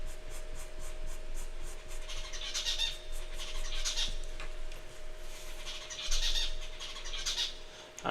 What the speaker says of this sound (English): So you might hear a little bird singing in the background.